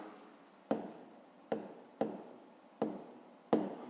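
Pen strokes on paper during a fifth-grade maths percentage exercise: five sharp, evenly spaced taps or strokes, each fading quickly, close and fairly quiet with no talking.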